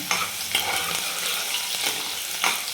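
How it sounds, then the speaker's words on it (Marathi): Onion frying in a pan, a loud, continuous close sizzle punctuated by a few soft stirring knocks, with no one speaking. "एक दोन मिनिट कांदा परतून घ्यायचा"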